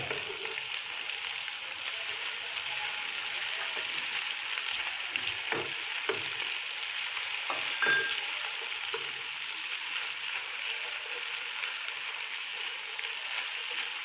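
Ginger garlic paste fries in a pan over browned onions as part of a radish curry, a soft, even sizzle running throughout, with a few faint clicks of a spoon stirring.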